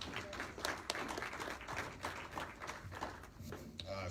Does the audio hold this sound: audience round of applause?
yes